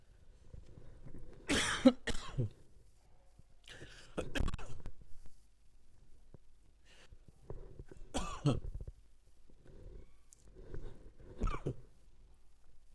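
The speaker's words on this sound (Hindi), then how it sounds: "जब भी पढ़ाते तभी खांसी आता है" A person coughs repeatedly in short fits spread across the stretch, fairly close, with quiet pauses between.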